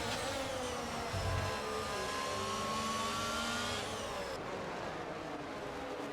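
F1 race car engines in the F1 22 video game at the Singapore Grand Prix, a continuous high whining drone with rising pitch that cuts off sharply near the end, no talk.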